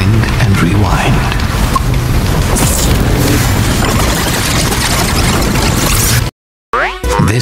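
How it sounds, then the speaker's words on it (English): Explosion in the fighting video game Nickelodeon All-Star Brawl 2, a loud, dense crashing roar with booming impacts that fills about six seconds, then cuts to brief silence before a short burst of game sound. "The explosion you just witnessed was the inevitable failure of Vlad's plan"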